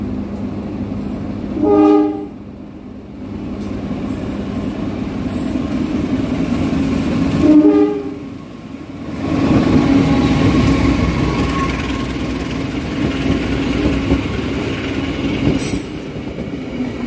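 Kutojaya passenger train passing a small Indonesian railway station, with sharp horn blasts at the start and midway, then a long rumbling roll of wagons and wheel clatter close by, rising and fading.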